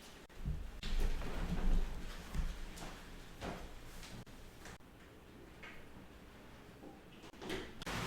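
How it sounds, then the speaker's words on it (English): Small hail falling outside, a rushing patter of pellets with intermittent sharper knocks and thuds, swelling and easing in intensity, heard from indoors at moderate loudness. "yeah, I think it's hailing."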